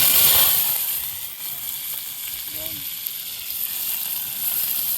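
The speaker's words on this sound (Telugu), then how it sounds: "ఇప్పుడు మనము కట్ చేసుకున్న కూరగాయలు అన్నీ ఒకేసారి వేసేస్తున్నాము. నూనె ఆల్రెడీ చిన్నగా మరుగుతుంది." Chopped vegetables dropped all at once into gently bubbling hot oil for a pachadi, a steady close sizzle that swells at the start and then holds evenly.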